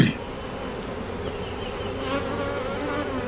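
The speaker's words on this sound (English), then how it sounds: "you just shake the bees down in front of it" A honeybee swarm shaken down in front of a hive, a dense steady buzzing of many bees close by, with a brief knock at the start and the hum holding evenly throughout.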